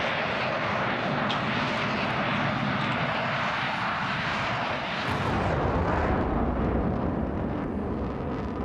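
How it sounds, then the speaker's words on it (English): Eurofighter Typhoon jet in Microsoft Flight Simulator 2020 passing overhead, a loud continuous engine roar that swells and shifts in pitch midway as the jet goes by, with no other sounds over it. "That Typhoon sounds awesome"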